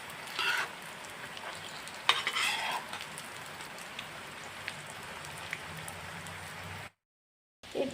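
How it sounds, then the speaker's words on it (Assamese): Egg kababs turning and frying in a hot pan give a steady, close crackling sizzle with a few louder spatters, then a brief cut to silence near the end. "দুয়ো চাইডতে ওলট পালট কৰি এনেদৰে ভাজি ল'লোঁ।"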